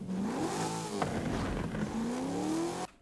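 A car engine in Forza Horizon 5, driven with a clutch manual gearbox, revs up and climbs in pitch with a brief shift dip, then cuts off sharply near the end; loud and close, no talking.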